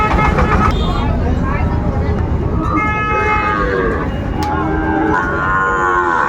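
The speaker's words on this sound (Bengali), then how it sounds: "শাহিওয়ালের মধ্যে ষাঁড় বাচ্চা।" A Sahiwal bull calf moos at a cattle market amid steady loud crowd chatter, the calls rising over the din; people talk throughout.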